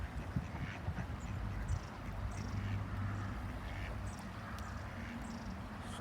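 Ducks quack repeatedly at a duck park, several birds calling over one another in a busy, fairly close chorus with outdoor background noise and no talk.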